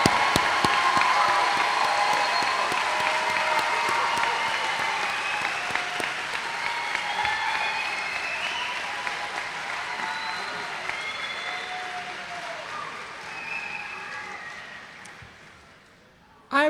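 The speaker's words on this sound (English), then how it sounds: "let's have a round of applause for all our graduates" Graduates receive applause at the College of Lake County 2017 commencement, a full hall clapping and cheering loudly before it slowly fades, with a voice speaking over the tail end.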